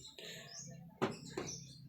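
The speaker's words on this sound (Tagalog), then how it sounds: "dami pong kalapati ni Sir Eric." A couple of brief calls, flutters and chirps from champion racing pigeons close by at a loft, with soft cooing sounds between them.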